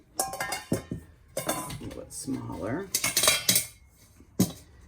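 Metal pots, pans and a strainer clink and clatter in sharp bursts while gazpacho is being made, with someone talking between the knocks.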